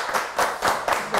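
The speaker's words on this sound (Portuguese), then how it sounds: "Aplausos para Suzana Alves e Flávio Saretta." Studio audience clapping on a Brazilian TV interview show, a few quick rhythmic claps in a sparse, close sequence rather than a full crowd.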